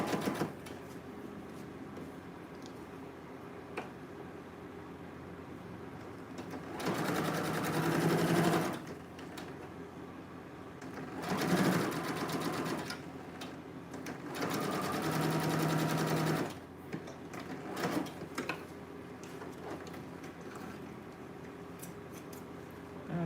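A sewing machine stitches the side seam of a dress in three separate bursts of steady whirring, each a couple of seconds long, separated by quiet pauses with faint handling noise.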